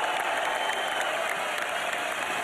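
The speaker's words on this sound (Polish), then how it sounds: "Owacje publiczności, brawa przy otwartej kurtynie" An arena crowd applauds after Artur Szpilka's win over Brian Minto in a 2013 boxing fight, a continuous wash of clapping and cheering that stays loud and even throughout.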